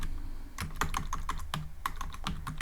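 Quick irregular clicks of typing on a computer keyboard, about a dozen crisp close keystrokes in uneven bursts with no talking.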